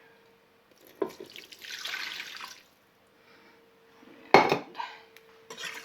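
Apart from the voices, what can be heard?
liquid poured into a pot and stirred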